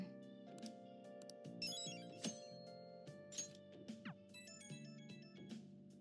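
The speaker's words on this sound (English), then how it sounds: "phone just blowing up over here." A phone ringing in the Persona 5 video game, a bright repeating electronic ringtone melody with chiming tones over sustained background music.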